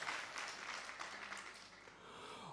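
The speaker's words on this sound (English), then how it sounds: "Please, let's clap for them." A forum audience applauding a group, a soft, distant wash of clapping that stays fairly even throughout, faint and with no speech over it.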